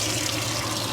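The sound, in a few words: water running from RV faucet fed by water pump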